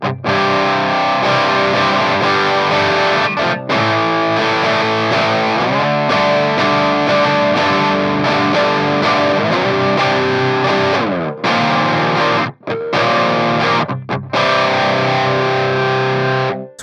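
Electric guitar running through a Digitech DF-7 Distortion Factory pedal placed in the amp's FX loop, with sustained heavily distorted chords and riffs that ring on, stopping briefly in a few short gaps near the end.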